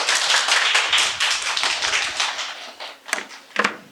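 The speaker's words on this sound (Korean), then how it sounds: "큰 박수 부탁드립니다" An audience at a seminar claps steadily for about three seconds for a presenter, the applause thinning out into a few scattered, sharper claps at the end.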